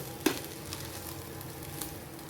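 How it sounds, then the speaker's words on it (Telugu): Leftover rice is stirred into hot tomato paste in a pan for tomato rice. A soft, steady sizzle runs underneath, broken by one sharp scrape of the spoon near the start and a fainter one later. "అన్నం మొత్తం వేసి బాగా మిక్స్ చేయండి"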